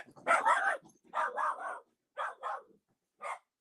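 A dog at home barks in several sharp bursts, loud and close: two double barks, a pair of shorter ones, then a single final bark, with silence between.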